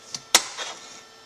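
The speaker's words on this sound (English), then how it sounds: "did you hear that little vacuum action? That's from the oxygen absorber binding all the oxygen in the can" A can of freeze-dried beef curry with vegetables is opened, giving a brief hiss of vacuum release: two quick sharp pops followed by a short fading rush of air, close and alone.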